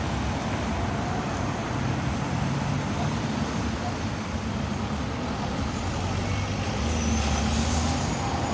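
A bus idling and rumbling at Swadlincote bus station, the heavy diesel engine steady and fairly close amid surrounding road traffic, with a brief faint voice.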